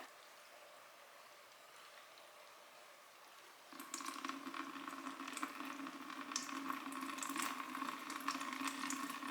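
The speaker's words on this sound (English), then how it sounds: "So this is the first time that I'm watering both of these plants in" Water pours into potted plants during a deep watering, starting as a quiet background hiss, then turning into a steadier, closer trickling and splashing that continues to the end.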